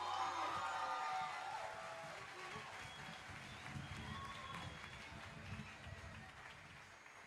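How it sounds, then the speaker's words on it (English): Applause and cheering from a graduation audience at the Waterford Kamhlaba UWCSA IBDP ceremony. The clapping is steady and fairly faint throughout, with a few crowd voices rising under it. "Please, can we give them another round of applause?"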